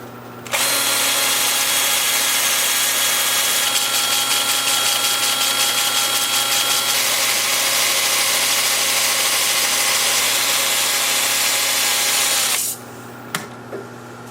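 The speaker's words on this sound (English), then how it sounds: "I'm starting at 80 grit. I have the lathe spinning in reverse at about 350" Continuous loud grinding hum of 80-grit sanding on wood turning in reverse on a lathe at about 350 RPM, with a steady motor drone underneath, running for about twelve seconds before cutting off.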